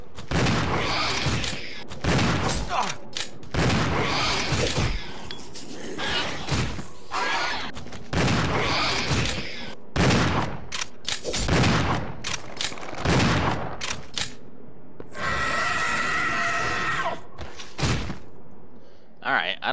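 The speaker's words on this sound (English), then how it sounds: "I'm going to test the shotguns on a hunter." Shotgun blasts fired at a hunter creature in Resident Evil Zero HD Remaster, a steady series of loud, booming shots with brief gaps, ending with a different rattling sound near the end.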